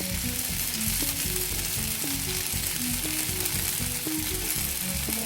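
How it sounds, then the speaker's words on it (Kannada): Masala-coated fish frying in oil in a pan, a steady dense sizzle and crackle filling the whole stretch, loud and close, with a low rumbling tone underneath and no talking. "ನೋಡಿ, ಫಿಶ್ ಬೇಗ ಬೇಯುತ್ತೆ. ಇದಕ್ಕೊಂದು ಸ್ವಲ್ಪ ಎಣ್ಣೆ ಹಾಕ್ತಾಯಿದ್ದೀನಿ."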